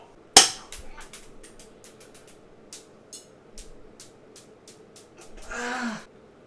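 A single sharp, loud BB gun shot cracks out at the start, followed by scattered faint ticks and a short breathy burst near the end.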